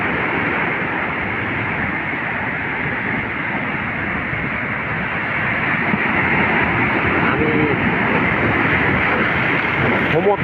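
Sea waves roar at Kuakata beach as a loud, continuous rumbling surf mixed with wind buffeting on the microphone, swelling slightly toward the end.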